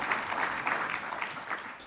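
Applause from a lecture audience at a talk by an educator and futurist, a steady wash of many hands clapping, fairly quiet and distant, with no talking over it.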